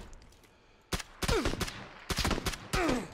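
Bursts of gunfire in the battle-royale game PUBG: a sharp lone shot, then several rapid volleys in quick succession, loud and close, with no talk over them.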